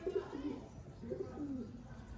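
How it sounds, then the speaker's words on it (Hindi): Old Ali-wala pigeons coo in soft, low, repeated rolling calls, two bursts close by with a gap between them. "ये उनके पुराने अली वाले कबूतर हैं।"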